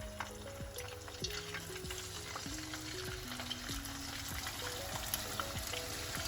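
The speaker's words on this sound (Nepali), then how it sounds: "अब यसलाई तेलमा फ्राई गर्नुपर्छ। तेललाई मिडियम हिटमा तताएर रेडी पार्ने अनि अब त्यसमा चिकन राख्ने।" Marinated chicken fries in oil on medium heat, a dense, steady sizzle with crackling pops and occasional stirring clatter, close and continuous with no talking.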